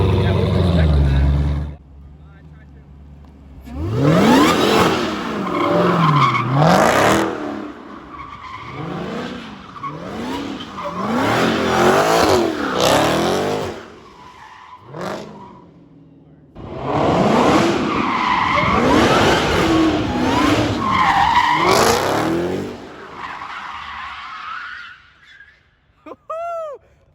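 Tires of a Corvette Z06 drift car screech in long, loud skids across several bursts of a drift run, with engine roar and brief gaps between passes, and voices talking faintly underneath.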